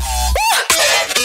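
Electronic dance music drop switch hit, a short burst of dense synthesized sound with a swooping tone, a sharp hit, then a thick electronic texture resuming.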